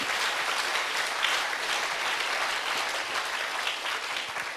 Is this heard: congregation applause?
yes